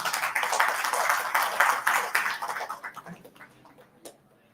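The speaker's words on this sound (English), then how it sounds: "A huge round of applause for sir." Audience applause at a summit, a loud burst of many hands clapping that swells, then thins out and fades with a few last claps.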